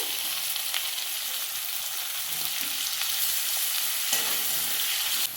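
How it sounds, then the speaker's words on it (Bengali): Chopped onions drop into hot oil left over from frying fish, setting off a loud, steady sizzle and crackle that runs unbroken throughout, with a few brief stirring scrapes. "ওই তেলের মধ্যে আমি এবার পেঁয়াজগুলো দিয়ে দিচ্ছি।"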